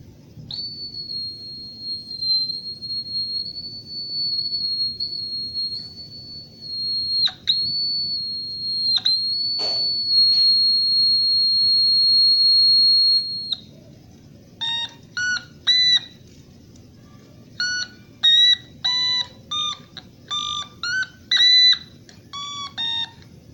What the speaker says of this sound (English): you made a car alarm noise